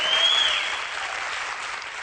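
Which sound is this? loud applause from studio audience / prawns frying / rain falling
loud applause from studio audience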